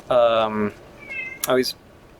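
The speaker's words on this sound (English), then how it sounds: "Great, my cat's back." A domestic cat meows twice, loud and close, the second call shorter and sharper.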